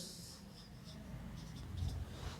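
Marker or chalk scratching across a classroom board during a lecture on stress distribution, a few short hissing strokes in quick succession over a faint background hum.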